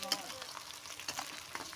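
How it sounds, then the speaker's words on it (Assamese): Onions frying in a pan for a curry, a faint steady sizzle with light crackles and occasional stirring taps, with no voices. "ভালকৈ পিঁয়াজখিনি ভাজি লৈছোঁ"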